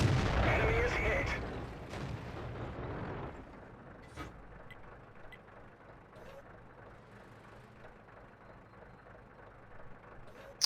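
Tank cannon fire in World of Tanks strikes a Sherman, a loud heavy blast and rumble at the start that fades into quieter engine drone with a few small clanks.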